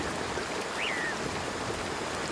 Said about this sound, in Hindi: जैसे जैसे बारिश तेज होती गई, बारिश का पानी पंछियों के घोंसलों तक पहुंचने लगा।